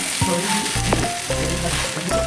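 Taro leaves fry in hot oil with black cumin, a close, continuous loud sizzle with brief stirring scrapes and low rumbling bubbles throughout.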